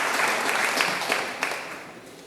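A church congregation applauding for God, dense, loud clapping from many hands that gradually thins and fades toward the end.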